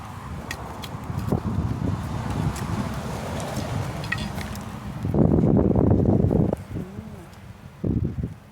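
Strong wind gusts buffet a campsite, a broad rushing roar with microphone buffeting that swells into a louder burst midway and again near the end, with no talk.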